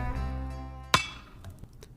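A hammer strikes an anvil once with a sharp metallic clang that rings out and slowly decays, alone and fairly loud, followed by a few faint small clinks.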